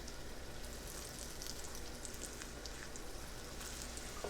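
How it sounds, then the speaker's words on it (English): Dover sole laid into hot oil in a pan gives a faint, steady crackling sizzle throughout, with no talking. "Yeah, see that sizzle?"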